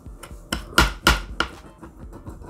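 A pizza knife cuts pizza dough into strips on a hard surface, making about half a dozen sharp, irregular knocks and thuds. The middle strokes are the loudest, and no one speaks.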